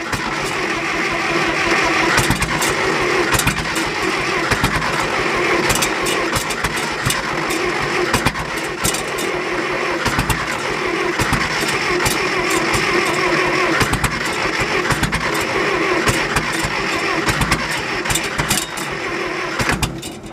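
A John Deere 1010 tractor engine with an empty carburettor catches and runs on choke and light throttle, a loud continuous mid-pitched rumble with steady roughness lasting throughout, no voices over it.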